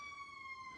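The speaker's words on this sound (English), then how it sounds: "Sorry about the sirens, if you can hear them." Emergency vehicle sirens wail outside, a steady high tone carrying at moderate distance, heard alone for a brief moment.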